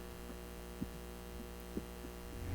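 An electric fan hums steadily and alone, a constant low drone with faint throbbing, close and moderately loud throughout.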